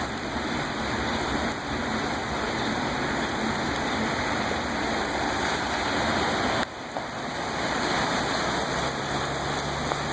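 Floodwater swirls into a whirlpool as it drains during flooding, giving a continuous rushing, splashing wash of water at moderate level, with a brief dip partway through and no talking.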